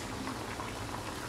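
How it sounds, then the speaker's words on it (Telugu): Amla dal stew simmers in a pot with coriander stems added, giving a soft, continuous bubbling and popping that stays quiet and steady, with no voices. "దీంట్లో కొంచెం కొత్తిమీర కాడలు వేసుకుని మరిగించుకుందాము."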